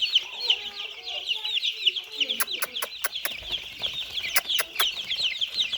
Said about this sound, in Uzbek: To'rtta qanot qarang, xo'roz ekan shekilli.